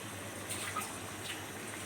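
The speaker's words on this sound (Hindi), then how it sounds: "तो मैं 2 गिलास पानी डालूँगी" Water is poured from a drinking glass into a cooking pot for rice in mutton pulao, a soft, quiet splashing trickle that lasts about two seconds with no talk.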